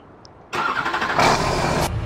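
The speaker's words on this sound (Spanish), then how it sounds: "Ahora vamos a subir al tractor que le tengo aquí atrás." A tractor engine in Farming Simulator 19 cranks and catches after a quiet moment, settling into a loud, steady mid-pitched idle that swells briefly, with no talking.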